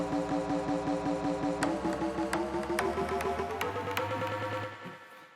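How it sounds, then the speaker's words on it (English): A bass sample plays in a sampler set to loop-forward playback, a sustained tonal bass phrase whose looped section repeats over and over with steady rhythmic attacks before fading out at the end. "it just keeps replaying and replaying and replaying that part"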